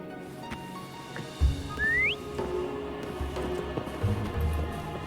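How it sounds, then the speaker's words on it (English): A single rising whistle to call Foam in the Wuthering Waves video game, short and clear, sounding over quiet game ambience with soft thumps and hoofbeat-like steps around it. "Why don't you call Foam over? Try whistling."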